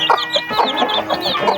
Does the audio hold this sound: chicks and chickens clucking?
yes